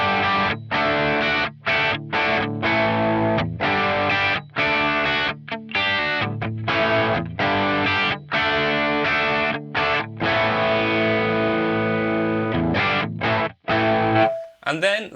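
Electric guitar through a modeled Marshall 2203 JCM800 amp in a Line 6 Helix, crunchy and dry with no delay or reverb, playing a rhythmic riff of chords and staccato stops, loud and close.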